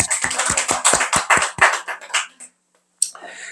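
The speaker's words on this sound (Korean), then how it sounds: "자, 서로에게 박수 쳐주시고." Church congregation clapping for one another during a Sunday service, a quick run of distinct, crisp claps that thins out and stops, then a brief bit of speech after a short silence.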